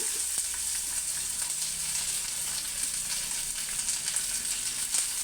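Onion and garlic sautéing in oil in a pan for tomato chutney, a steady crackling sizzle with light popping and occasional stirring taps, fairly close and continuous.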